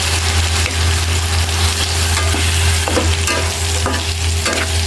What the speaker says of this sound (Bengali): এখন আমি দিয়ে দিব আমি যে মিক্সড ভেজিটেবল রেখেছিলাম, মটরশুঁটি, ভুট্টা আর আছে এখানে গাজর।